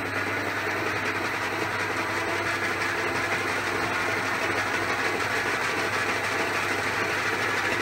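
A metal shaper machine with a 14-inch stroke runs steadily in its third fastest gear while cutting a keyway, giving a continuous close mechanical drone with a low hum and faint rhythmic clatter.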